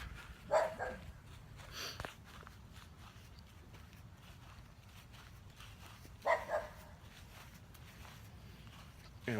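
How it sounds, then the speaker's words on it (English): Dogs bark faintly in the distance, a couple of brief barks early and another pair later, over quiet ambient background. "Doggies are barking or no doggies barking."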